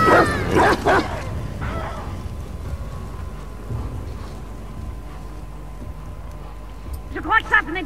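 Dog whimpering and yelping in The Last of Us Part II, a cluster of close, loud whines and yips at the start and a short burst again near the end, with quieter rumbling game ambience between them.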